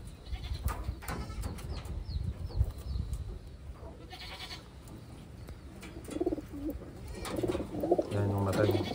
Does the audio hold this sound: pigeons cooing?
yes